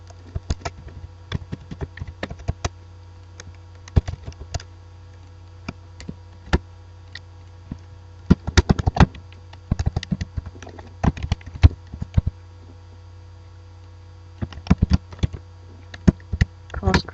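Irregular bursts of clicking keystrokes on a computer keyboard as course information is typed, close and crisp, separated by pauses, over a low steady electrical hum.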